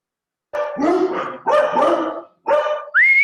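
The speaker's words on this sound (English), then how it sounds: "I think Comrade Philip is still attending to the dogs" A few dogs barking in short bursts at close range, three loud clusters of barks with a higher yelp or whine at the end, no talk over them.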